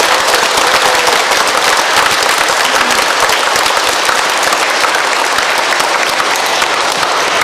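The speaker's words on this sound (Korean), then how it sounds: "다시 한번 영명축일 축하의 박수를 크게 부탁드립니다." A Catholic parish congregation at Sunday Mass bursts into dense, very loud applause celebrating a priest's name day, a thick, unbroken roar of clapping sustained throughout with no voices over it.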